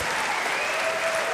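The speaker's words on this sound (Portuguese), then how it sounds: "vamos dar um aplauso pela sede" A crowd claps together in a short, dense burst of applause, steady and loud throughout.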